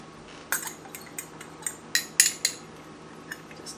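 A metal fork clinks against dishes in a kitchen, a handful of sharp bright taps and rattles spread over a few seconds, close and fairly quiet, with no one speaking.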